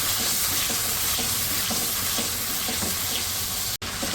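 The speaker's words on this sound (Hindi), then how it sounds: "अब प्याज की थोड़ी भुनाई करेंगे ताकि इसका कच्चापन ख़त्म हो जाए।" Onions sauté in a pan, giving a dense, steady sizzle close up with faint stirring scrapes. A brief dropout cuts the sound near the end.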